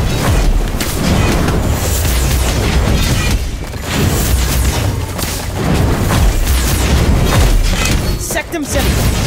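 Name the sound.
Incendio spell explosion in Harry Potter: Magic Awakened video game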